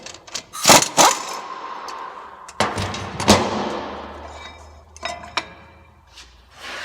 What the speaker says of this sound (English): Now I'm just going to remove the caliper bracket itself, a couple 21mm bolts.